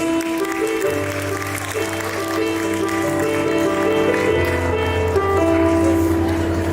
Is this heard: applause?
yes